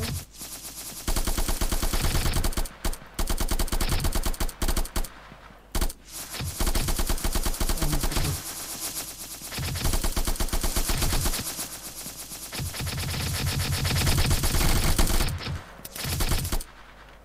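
Rapid bursts of automatic gunfire rattle almost continuously, with brief gaps, loud and close, sounding like game combat.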